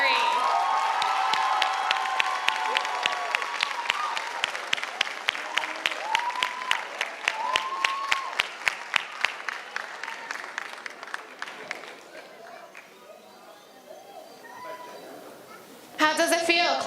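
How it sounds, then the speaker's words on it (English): A middle school graduation audience applauds the class of 2023, a loud burst of clapping and cheering with rhythmic claps and whoops that gradually dies down, then a fresh surge of noise at the very end. "A big round of applause for class of 2023."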